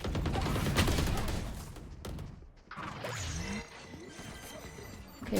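Bursts of rapid gunfire and crashing impacts in a video game, loud and dense at first, then breaking off into quieter clanks, thuds and scattered effects.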